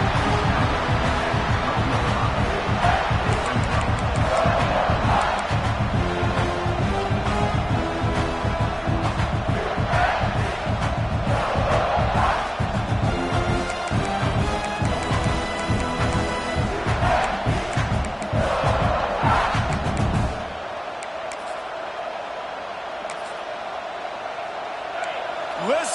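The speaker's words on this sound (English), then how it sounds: "Listen to this crowd just shaking the girders of this place trying to help their defense." A packed college football stadium crowd roars loudly and continuously to rattle the offense near the goal line, with rhythmic chanting and noise under a commentator's voice before the din drops sharply as a timeout is called.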